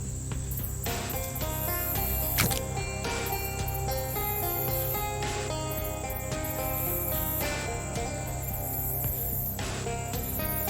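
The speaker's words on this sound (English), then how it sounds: "I kind of don't like those crickets or whatever that sound is." Continuous high, shimmering cricket chirps in the game Shadows Over Loathing ring steadily throughout, layered over a low ambient hum with no talking.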